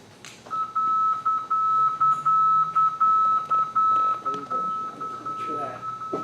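An aviation middle marker beacon tone picked up on a receiver at an airport: a steady, clear beep keyed in a repeating dash-dot pattern for several seconds over a low background hiss.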